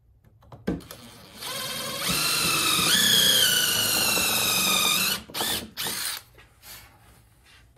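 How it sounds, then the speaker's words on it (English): A power drill whines for a few seconds as it bores a countersink into wood, its pitch shifting slightly, followed by a few short knocks and clatters. "And then I'm going to go ahead and drill my countersink here."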